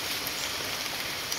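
Steady rain hisses evenly and loudly, a dense unbroken wash of falling water with no pauses.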